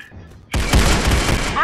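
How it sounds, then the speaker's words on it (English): Gunfire in the video game Arsenal: after a quiet lead-in, a loud burst of rapid shots hits suddenly and keeps on in a dense, booming barrage up close, with no speech over it. "I shot it!"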